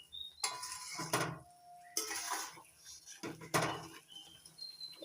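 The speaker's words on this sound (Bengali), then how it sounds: "এইভাবে নাড়াচাড়া করে নিতে হবে যাতে তলায় না ধরে যায়" Ash gourd murabba stirred in sugar syrup in a pan, with repeated scraping and clinking strokes of the spoon against the metal in an uneven rhythm, close and fairly quiet, with no voices.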